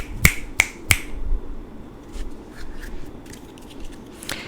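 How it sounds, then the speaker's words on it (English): Three crisp finger snaps ring out in quick, even succession, followed by faint rustling and a few soft clicks. "the way I like to clear them is through sound. So I snap,"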